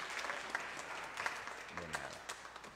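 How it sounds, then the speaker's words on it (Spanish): A church congregation applauds during a Nativity Mass: soft, distant, steady clapping, with a low voice briefly heard near the end. "Un aplauso a mi niñito."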